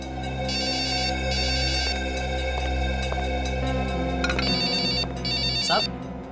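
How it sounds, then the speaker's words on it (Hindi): Electronic ringtone from a mobile phone keeps sounding in a police-drama setting, repeating its pulsing melody over a low steady hum, with a voice speaking briefly over it. "साहब, नवीन साहब फोन बज रहा है आपका।"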